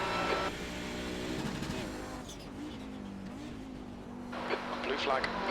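A faster-class race car approaches in a Road America 500 racing video game. Its engine drone rises and shifts in pitch, with gear changes, and it stays mid-distance under ongoing talk.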